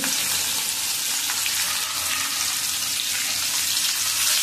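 Onion and asafoetida sizzle in hot oil in a pan for Maharashtrian raw-mango moong dal amti: a loud, steady, dense frying hiss that runs unbroken throughout, with no voices.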